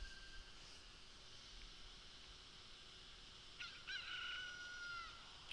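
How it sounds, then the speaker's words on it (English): A cucco rooster from Zelda: Ocarina of Time crows quietly in the game, its drawn-out call rising late in the clip over a faint steady background. "I heard the cuckoo crow both times"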